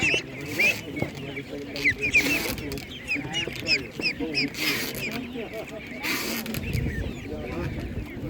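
Ducks quack and chatter in a busy group at an animal market, mixed with clucking poultry and someone talking over the noise.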